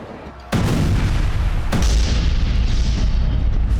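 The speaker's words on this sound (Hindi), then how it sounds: "पहला विस्फोट," A sudden loud blast hits, followed by a second heavy boom and a long rumbling roar that stays loud throughout.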